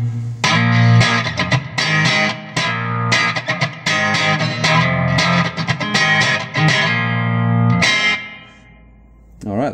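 Electric guitar played through a Fender Mustang II modeling amp with light reverb and a touch of chorus, strummed chords and ringing notes in bursts, close and loud, fading out near the end.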